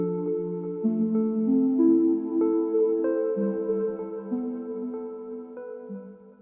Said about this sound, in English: So this sound is from SynthPads by Spitfire Audio.